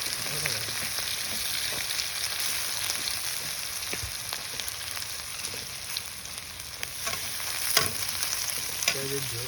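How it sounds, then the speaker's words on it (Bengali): Onions sizzle and crackle steadily in hot oil in a pan during a village-style fish curry cook, a close, continuous frying hiss with occasional sharper pops and stirring scrapes. "পেঁয়াজ ছাড়া হচ্ছে।"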